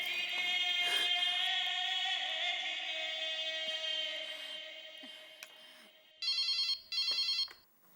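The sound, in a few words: telephone ringing during a call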